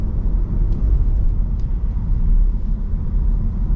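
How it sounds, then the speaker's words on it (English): A 2026 Cadillac CT5-V accelerates, heard from inside as a steady, smooth low engine and road rumble that holds evenly throughout with no voices. "the acceleration on this is really smooth"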